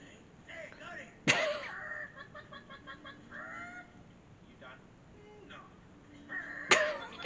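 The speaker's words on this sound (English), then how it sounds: "Two little chickens." Chickens cluck in the video game It Takes Two, with repeated short clucks and two sharp bursts of sound, while players talk quietly under the game audio.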